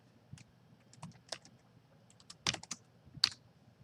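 Typing on a computer keyboard at close range: a short, uneven run of quick key clicks, with a few louder strikes near the end, and no voices over it.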